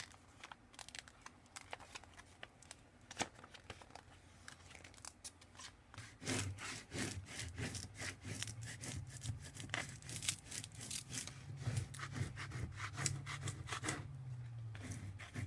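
Squeegee rubbing over a printed vinyl decal and its backing being peeled away, faint scraping strokes that grow into a steadier, louder rubbing and tearing sound, close up with no talk.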